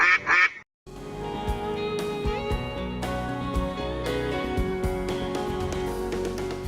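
A single duck quack sound effect that stops abruptly and gives way to upbeat music, which then plays alone and fairly loud.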